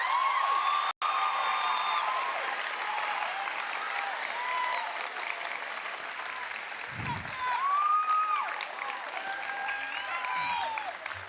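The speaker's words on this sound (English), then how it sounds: "Let's applause." Sustained applause from an audience at a school annual awards ceremony, steady and fairly loud throughout, with a few faint cheers.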